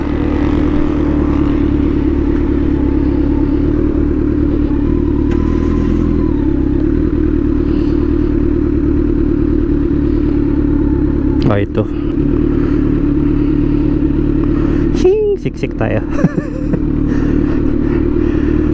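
A KTM 790 Duke and a Dominar 400 motorcycle idle steadily and loud nearby in a parking area, with a brief clatter and scrape partway through while people talk over them.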